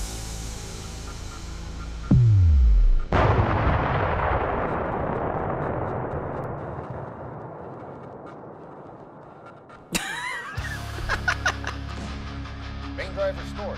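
An explosion in the Nebulous space battle game: a short descending synth tone leads into a loud booming blast whose rumble fades over several seconds, followed by further sharp crackling bursts.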